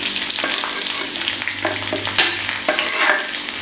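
Chopped onion and a small piece of ginger sautéing in a hot pan, a continuous sizzle with scraping stirring strokes, close and alone.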